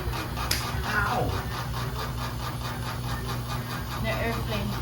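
A household washing machine runs with a steady, droning mechanical hum and a rhythmic pulsing whir, like a distant airplane, while people speak briefly over it at moderate distance.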